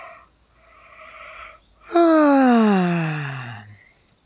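A long audible yawn during a guided relaxation breathing session: a soft inhale, then a loud drawn-out vocal exhale that falls in pitch and fades, heard alone.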